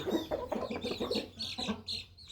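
Young Burmese game roosters clucking in a short run of close, repeated calls, a few brighter squawks mixed in, with faint background noise.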